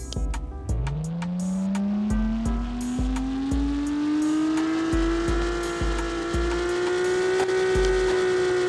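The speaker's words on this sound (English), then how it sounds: "Let's listen at this 6-cylinder" A six-cylinder engine in a classic muscle car revs up loud and close, its pitch climbing steadily through one long pull, with repeated sharp clicks or pops ticking over the roar.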